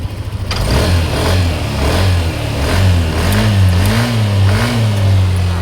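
A Yamaha NMAX scooter with a new spark plug, fixed after stuttering take-off caused by a faulty MAP sensor and a failed plug, revs up close in a workshop, its engine note rising and falling in repeated loud blips.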